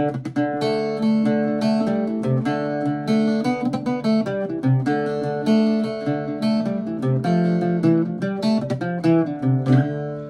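An Irish bouzouki is picked in a jig pattern with triplets, its bright ringing strings sounding close and steady with a quick, lilting rhythm and no voices.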